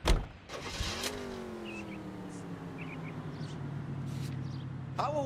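A car engine in the video game L.A. Noire starts with a sharp burst and then settles into a steady idle drone, with a door or mechanical clunk at the end and faint voices beneath.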